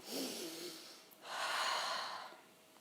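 Two deep breaths during a standing body exercise, each a long airy inhale or exhale, close to the microphone and fairly faint, with no talk over them.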